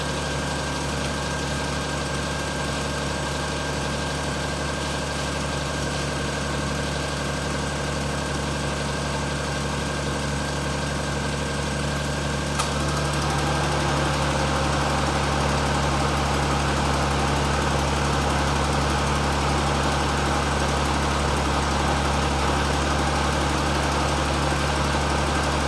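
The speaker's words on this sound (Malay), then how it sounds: "tengok bila dah start tu engine terus enjin terus stabil" A Perodua Kelisa engine idles steadily just after starting, a loud, continuous mid-pitched hum with a slight knocking vibration, shifting tone briefly about halfway through as the load changes.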